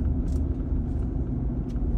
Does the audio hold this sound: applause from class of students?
no